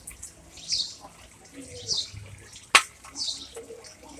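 Water pours from a tap or into a container nearby in a few short splashy bursts with a sharp clink partway through, set against soft room noise.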